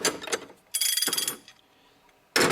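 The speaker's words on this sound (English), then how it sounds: "Stuff like these gear wrench here." A GearWrench ratcheting wrench clicks in fast bursts of tight ratchet ticks, three separate runs close and loud with short silences between them.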